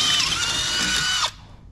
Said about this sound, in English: So I'm gonna drill these out real quick, do the other side as well